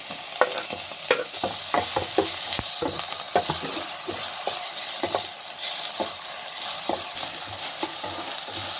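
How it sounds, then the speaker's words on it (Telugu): Tomatoes and onions fry in a pan for a sambar with drumstick, brinjal and potato, giving a continuous close sizzle punctuated by frequent sharp clicks and scrapes of a spoon stirring, with no talking. "టమాటో బాగా ఫ్రై అయిందండి"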